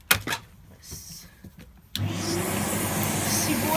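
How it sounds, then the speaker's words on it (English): A Hoover Dustmanager vacuum cleaner starts up after a few quiet knocks and shuffles, then runs loud and steady on carpet for the rest of the clip. "I'm going to have to move you for a moment and vacuum this carpet before I go kneeling on it."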